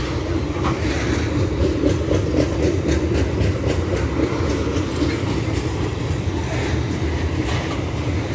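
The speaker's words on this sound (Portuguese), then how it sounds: "Depois que o trem passar," A long freight train rolls steadily past a lake in Rolândia, Brazil, its loud continuous rumble and rail noise filling the whole span with faint, repeating clickety-clack from the wagons.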